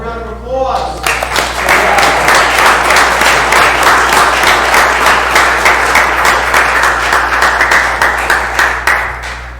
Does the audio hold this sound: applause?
yes